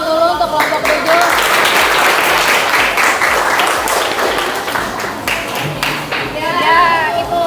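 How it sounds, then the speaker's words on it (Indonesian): Loud classroom applause for a student group presentation, dense continuous clapping from many hands close by, with voices and cheering mixed in throughout. "Kasih tepuk tangan dulu untuk kelompok 7."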